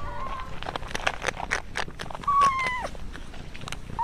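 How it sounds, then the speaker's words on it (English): A cat lets out a few short, muffled meows with a mouthful of food while eating, amid soft clicking and rustling noises close by. "he makes this funny meow that he does"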